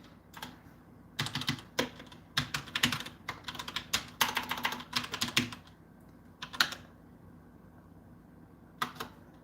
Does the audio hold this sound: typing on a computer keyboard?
yes